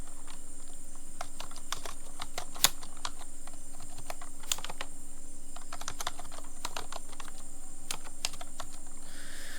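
Fingers type text on a computer keyboard, a quick, irregular run of close, crisp key clicks with a few sharper strokes, carrying on for several seconds with no talk.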